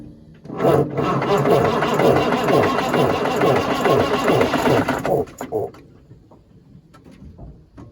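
A 1955 Oshkosh W712 6x6 truck engine cranks over and over with a rapid, loud churning rhythm for about five seconds, then stops and leaves quieter clunks and rattles.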